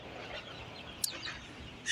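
Young Sonali chickens, about 24 days old, in a poultry house on fresh litter: soft, faint clucking and chirping from a flock in a quiet room, with one sharper brief call midway.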